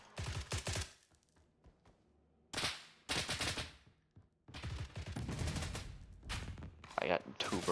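M16A2 rifle firing bursts in the video game BRM5, short, sharp bursts of gunfire separated by pauses, mixed with someone talking.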